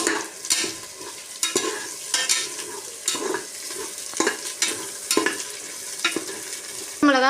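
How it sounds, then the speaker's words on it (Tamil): A handful of coriander leaves is sautéed in a pan for a country chicken biryani: a steady sizzle of frying runs throughout, broken by repeated scraping stirs roughly once a second, close and clear, with no voices. "கொத்தமல்லி ஒரு கைப்பிடி அளவுக்கு போட்டு நல்லா வதக்கணும்"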